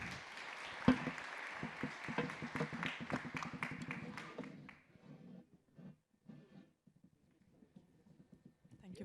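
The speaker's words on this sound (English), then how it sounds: "So big round of applause for our panel" Audience at a space and green energy forum applauds the panel, scattered close claps building into a round of applause that thins out after about four seconds into a few isolated claps.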